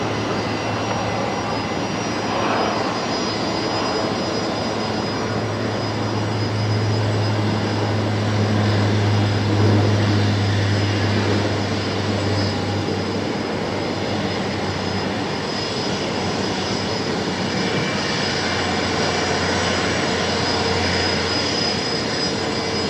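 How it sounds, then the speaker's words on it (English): Fokker propeller airliner taxiing at Brisbane Airport at night, a steady droning engine hum with a low rumble that swells slightly midway, heard from a distance without talk. "That's a Fokker, I can hear."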